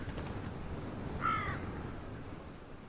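A single crow caws once, fairly distant, over a steady wind-like hiss on an icy mountain slope near an ibex carcass. The short harsh call stands out briefly and then fades back into the background noise.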